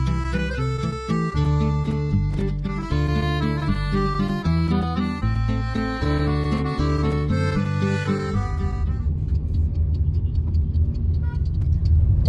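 A car drives along a road behind an airport. Steady road rumble rises near the end, while music plays over most of it.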